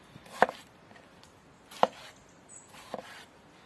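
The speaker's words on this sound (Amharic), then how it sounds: "ቲማቲሙንም ዝም ብለን ጎረድ ጎረድ አድርገን እንከትፈዋለን" A knife chopping tomatoes on a board, three separate sharp chops spaced over a few seconds, close and fairly quiet, with no talk.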